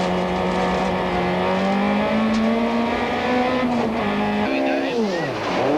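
Inside a rally car on a forest stage in the 1994 Castrol International Rally, the engine roars close and loud, its pitch rising and falling through gear changes and revs, with a voice speaking over it.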